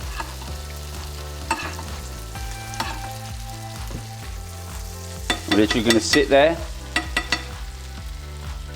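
Swordfish sizzles in a hot buttered pan, a steady crackling fry that swells briefly with stirring, while a person talks over it.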